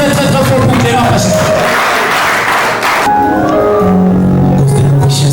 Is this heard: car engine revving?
no